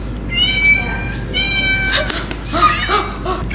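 Several drawn-out, high meows imitated by a person's voice at a cat cafe, repeated in quick succession, fairly loud and close, with a little background murmur.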